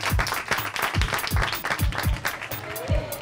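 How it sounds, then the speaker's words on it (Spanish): Applause from an audience at a children's art workshop, with sharp uneven claps that stay loud and busy throughout. "un aplauso para todos ustedes, ¿ok?"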